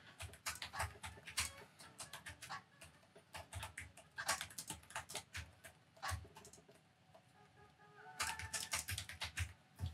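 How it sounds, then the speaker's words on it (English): Fast typing on a Lenovo Legion 7i gaming laptop keyboard, with crisp, distinct near-mechanical key clacks in dense bursts and short pauses, close and clear with no talking. "I don't want to say it feels like a mechanical keyboard, but it almost does in some ways."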